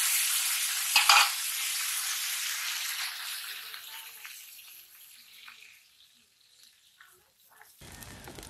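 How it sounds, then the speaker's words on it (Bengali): Water poured into a hot pan of frying fish curry with cauliflower bursts into a loud hiss that gradually fades to a softer simmering sizzle, with a brief clatter near the end. "জল দিয়ে দিচ্ছি"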